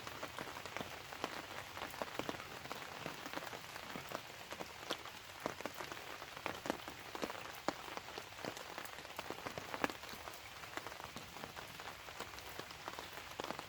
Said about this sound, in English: it's bloody rain coming down